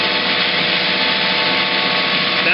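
A center drill held in a lathe tailstock feeds into a metal spacer, giving a steady, loud machining whir with a constant grinding rub throughout, no pauses and no voices.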